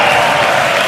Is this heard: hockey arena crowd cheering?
yes